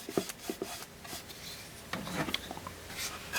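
A brush spreads a coat onto a painting panel, with soft, close scratchy strokes and light taps in quick succession.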